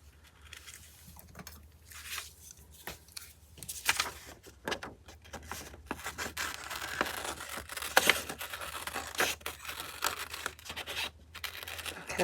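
Scissors snip and rustle through paper as a printed public-domain image of a sweet pea doll is trimmed out for a collage, a steady run of close, soft cuts and paper handling with no talking.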